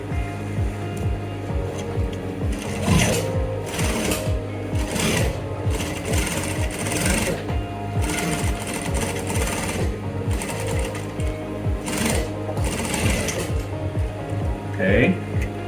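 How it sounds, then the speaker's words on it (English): Close, loud sewing machine stitching a trouser front pocket, running in a steady rapid chatter with slight speed changes and short breaks throughout, and a voice talking faintly underneath. "and then you sew."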